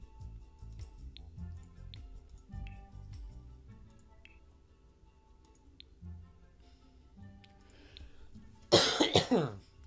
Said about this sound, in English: I hate coughing during videos.